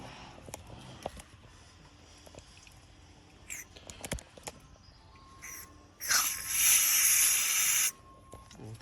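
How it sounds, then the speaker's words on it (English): Electrical cleaner sprays onto the alternator of a Mercedes C180 Kompressor C-Class coupe in one loud, close hissing burst of about two seconds, preceded by scattered small clicks and handling noises. "So I'm going to hit it with some electrical cleaner."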